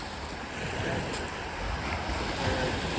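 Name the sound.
waves on the shore of Lake Superior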